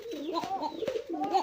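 Pigeons kept for sale cooing up close, a few quick rolling coos in a row with slight background noise.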